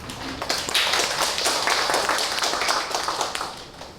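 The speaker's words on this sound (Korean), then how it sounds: "교수님 큰 박수로 앞으로 모시겠습니다" Audience applause greets a professor invited to the front at a food and drug safety open forum on hygiene product safety; dense, steady clapping fills the whole stretch at moderate loudness.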